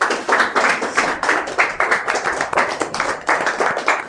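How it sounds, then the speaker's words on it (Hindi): A group of people claps in a steady, fairly loud rhythm, with each clap standing out in a close, continuous run that lasts the whole stretch. "सब लोग ताली बजा दीजिए जी"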